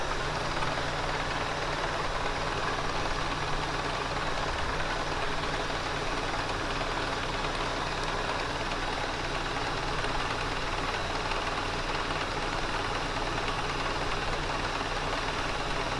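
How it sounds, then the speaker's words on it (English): An electric fan runs steadily to cool a freshly machined part, a constant broadband whirring hum with a low rumble, loud and unbroken throughout with no talk. "I apologize about the noise behind me. I've got a fan on."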